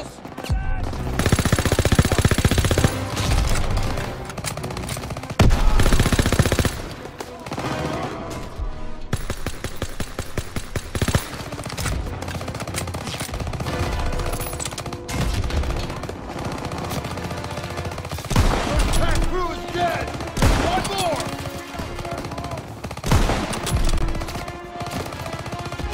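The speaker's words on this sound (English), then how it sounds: "gunner is firing on our tanks!" Rapid machine-gun bursts and gunshots rattle through a World War II battle in Call of Duty: WWII, a gunner firing on tanks. The fire is loud and sustained across the whole stretch, with heavy impacts and short lulls between volleys.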